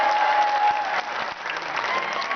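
A crowd in a large pavilion claps vigorously at a public gathering, producing a loud, dense, sustained applause that fills the space from start to finish, with no speech over it.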